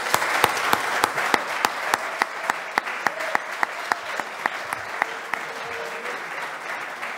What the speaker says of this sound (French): Moi, je dis bravo et applaudissements pour vous.